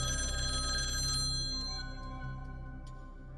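A telephone bell rings in a steady electronic trill inside a home, fairly faint and alone, then fades slightly toward the end.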